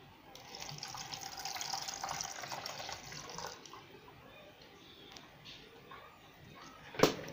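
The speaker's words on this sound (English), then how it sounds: "And we are pouring the water." Water poured into a homemade rain gauge, a steady splashing, trickling stream for a few seconds that tapers off, ending with a sharp knock.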